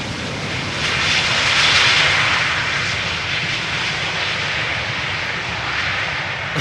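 A 23-year-old British Airways jet airliner arriving at Schiphol airport from London Heathrow, its loud steady engine roar swelling slightly and then holding as it passes nearby.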